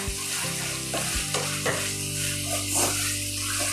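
Holy basil, canned fish and crispy pork are stir-fried in a pan over high heat. A continuous loud sizzle runs throughout, broken by repeated scraping and clinking strokes of a spatula, close by and with no talk.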